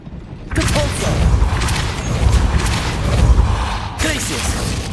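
The Depulso repelling spell is cast in Hogwarts Legacy, a loud whooshing blast followed by rumbling, crashing impacts that sustain for several seconds, with a second burst near the end and a voice calling out.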